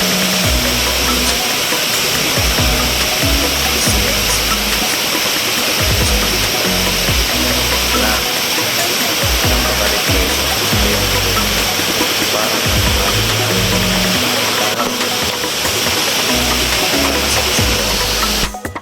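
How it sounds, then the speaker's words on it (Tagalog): Water crashes down at Bato Spring in a loud, dense, unbroken roar, heard from close beneath the falling stream. "Ang lakas ng pwersa ng bagsak ng tubig."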